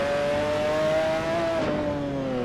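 A race car engine in the video game Assetto Corsa revs hard and steady, its pitch climbing then dipping slightly as it shifts, loud and close with no other sounds.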